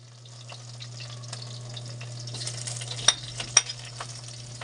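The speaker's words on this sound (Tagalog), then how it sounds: "Bigisa lang natin ng ano, bawang." Garlic and onion sautéing in a pan, with ginger added, a steady low sizzle under scattered clicks of a utensil stirring, plus two sharper taps near the end; no talking.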